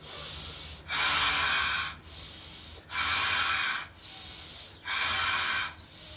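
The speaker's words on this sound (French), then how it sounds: "concentrer à forcer cette respiration vers les bas" Forced breathing exercise with the breath pushed down toward the pubic bone: three loud, close, drawn-out exhalations, each about a second long, separated by short pauses in an even rhythm.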